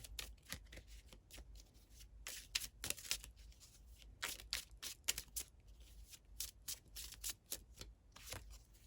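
A deck of tarot cards is shuffled up close in quick, papery riffling bursts with short pauses between them, continuing throughout without any talking.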